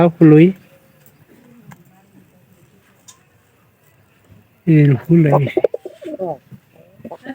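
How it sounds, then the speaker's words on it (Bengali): Domestic pigeons at a home loft give a few low cooing calls in short bursts near the start and again later, separated by quiet, with someone talking nearby. "আর এই কবুতরগুলো কিন্তু আমার অনেক ভালো"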